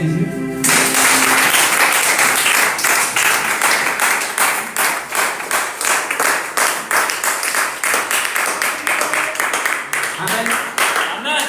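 A church congregation applauds to acclaim Jesus, loud sustained clapping from many hands throughout, dense and rhythmic, with a short burst of voice at the very start.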